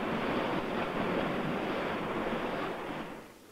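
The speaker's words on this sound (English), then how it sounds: "When you see waves like that crashing on the shore" Ocean surf breaking on a shore, a broad continuous roar of crashing water with some wind, fading slightly toward the end.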